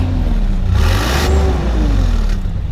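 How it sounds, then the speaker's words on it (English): A 1989 Toyota FJ62 Land Cruiser engine revs up and settles, its pitch rising and falling once over a steady, loud idle rumble, recorded close with no talking. "Go ahead and rev it up again."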